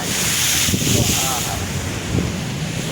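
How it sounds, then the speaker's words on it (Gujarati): Strong wind roars across the microphone at Dwarka beach as sea waves surge and break close by, a steady loud wash of surf and gusts throughout. "ફૂલ પવન આવે છે પવનમાં મોજા પણ આવે છે"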